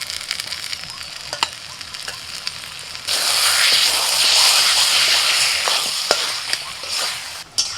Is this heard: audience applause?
no